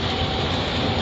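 Passenger train on the Gandhidham to Palanpur route, heard as a steady, loud broadband rumble of rolling stock from onboard, with no voices.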